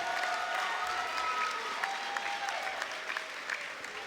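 A crowd at the QuakeCon 2014 finals party claps and cheers for a player's birthday, a dense wash of applause with whoops and shouts rising through it, loud and sustained.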